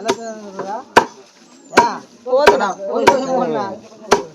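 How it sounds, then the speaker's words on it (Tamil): A knife finely chops leaves on a board, sharp regular strikes roughly every half second, while a person talks over the chopping. "இதை வந்து தூள் தூளாக தூளாக நறுக்கணும்"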